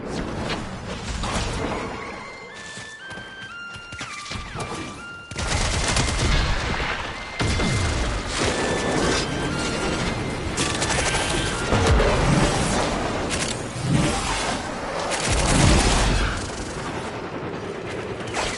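Turret gunfire in the Warframe video game bursts in dense, rapid volleys of booming shots and crashing impacts, loud and continuous, with the intensity rising and falling over the whole stretch.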